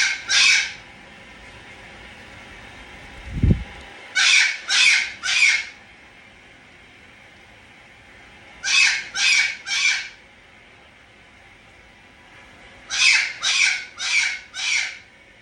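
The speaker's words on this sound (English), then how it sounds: "Y'all think you want a cockatoo." A pet cockatoo in a home bird room lets out loud, close, harsh squawks in repeated bursts of three or four, spaced by short pauses, with a low thump heard once early on.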